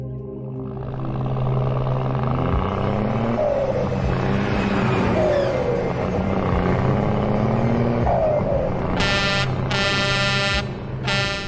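The highway log truck scene from Final Destination 2 plays as a continuous loud traffic drone with rising and falling engine whines, then several sharp horn blasts near the end. No distinct crash stands out.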